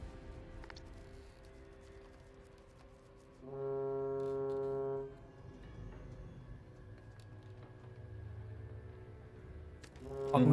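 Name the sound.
foghorn sound effect with long drawn-out bass rising in pitch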